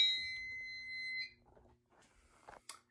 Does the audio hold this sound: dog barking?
no